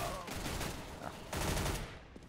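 Rapid gunfire from a shooter video game during an esports match, dense bursts of shots running throughout at moderate loudness, with a commentator's voice partly underneath.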